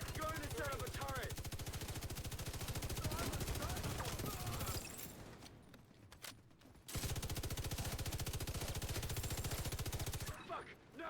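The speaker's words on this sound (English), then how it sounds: "my companion who's firing a shotgun at that guy" Shotgun fire from an AI companion in the video game The Division, heard as rapid, steady, loud gunfire bursts that break off briefly and then resume, with talk nearby.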